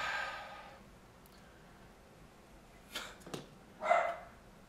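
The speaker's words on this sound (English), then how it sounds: "he's barking at them like the tough little miniature dachshund that he is" A miniature dachshund lets out a few short, sharp barks near the end after a quiet stretch, close by and alone without talk.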